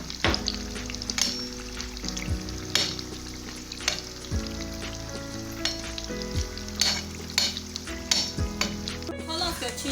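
Chin chin dough frying in hot oil, a continuous dense sizzle with repeated metallic stirring clinks and scrapes from a utensil against the pan, close and steady throughout.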